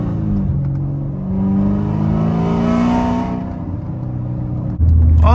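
An 800hp manual C7 Corvette ZR1 revs hard in second gear and climbs in pitch through a sustained pull, loud and close, then drops off with a sudden shift in tone near the end.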